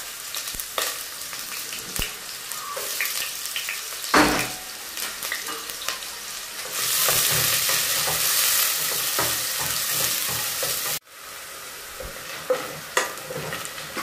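Onions frying and being stirred in a pan while cooking wet fry omena: a steady close sizzle with repeated scraping stir strokes, louder and more constant in the middle, with no voices.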